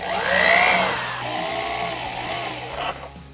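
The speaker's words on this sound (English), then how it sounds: "So I'm going to drill very carefully on that." A power drill whines and bites into aluminium pop rivets on a Lotus Esprit body, its pitch sweeping up and down over a continuous motor hum, close and fairly loud.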